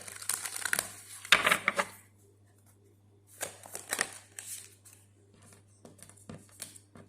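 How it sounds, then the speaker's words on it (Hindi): Starseed oracle cards are shuffled and drawn from the deck in close, crisp bursts of rustling and flicking, separated by short quiet gaps. "अभी स्टार सीड ओरेकल से कार्ड लेते हैं।"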